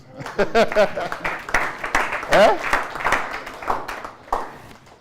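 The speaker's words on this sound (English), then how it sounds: "So you should clap for God." Scattered clapping from an audience at a community program event in Otukpo, uneven bursts of hands mixed with cheering voices and chatter, rising and falling over a few seconds.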